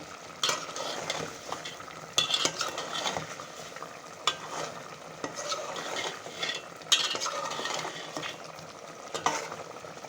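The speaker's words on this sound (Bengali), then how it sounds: "এখন আরও কিছুক্ষণ কষিয়ে নিয়ে আমি এটা নামিয়ে ফেলবো" Beef and potato for biryani sauté in a pot, with continuous sizzling and frying broken by repeated scraping and clanking as a utensil stirs against the metal, close and fairly soft.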